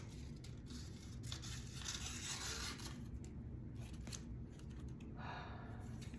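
Scissors snip through material in a few quiet, close cuts against a steady low background hiss, with no talking.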